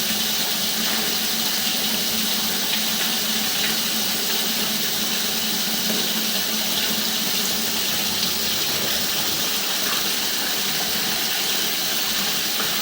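Tap water runs steadily into a sink in a house, a continuous close hiss and gush that never lets up, with no voices over it.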